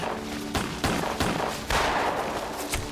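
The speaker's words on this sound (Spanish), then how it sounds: "se intercambiaron disparos" Gunfire from a shootout scene in a documentary film about the death of Francisco I. Madero, with a rapid series of loud, sharp shots in uneven bursts over a dense rumbling background.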